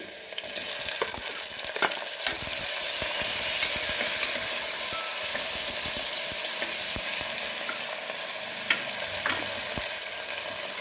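Green chillies, onion and tomatoes fry in oil for upma, a loud, dense sizzle running throughout with occasional light stirring taps, up close and with no talking.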